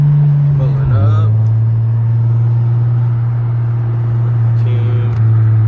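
Car engine humming steadily as the vehicle rolls up to a car wash, a loud low drone with a brief pitch dip early on and faint higher whines, no distinct passing.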